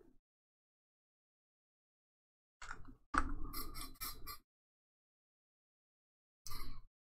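Scissors snip through a paper tag on a handmade Christmas ornament, a few quiet close cuts in quick succession with a lone snip a few seconds later, set in near silence.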